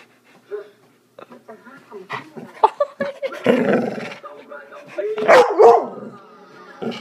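Jealous dog barking, growling and panting in short irregular bursts at close range, mixed with a person talking.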